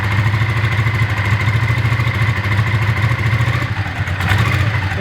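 A Honda Ascot motorcycle engine idles very low and steady, a continuous near rumble with a faint mechanical clatter and no revving.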